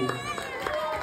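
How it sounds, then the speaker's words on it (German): Applause and cheering from an audience at an awards ceremony at the Seaden Sea Planet Resort & Spa, a steady crowd noise with voices shouting over the clapping throughout. "Applaus, Applaus"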